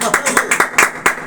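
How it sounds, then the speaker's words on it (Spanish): Church congregation claps at a sermon by a pastor, giving repeated bursts of close, rhythmic handclaps in short rapid groups, loud and fairly dense, with voices mixed in. "Un aplauso a Cristo Jesús."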